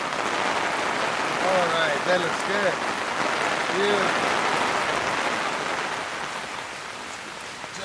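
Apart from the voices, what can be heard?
rain falling outside during barbecue smoking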